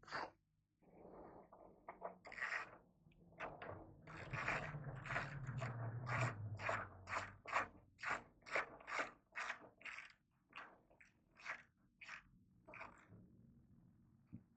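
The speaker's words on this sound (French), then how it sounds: "il faut passer l'axe dedans, comme ça. Et le serrer de l'autre côté." An axle is tightened by ratchet on a Triumph Street Triple 675 motorcycle during reassembly, giving a quick series of sharp, evenly spaced ratchet clicks, close but quiet, after some rubbing and fumbling.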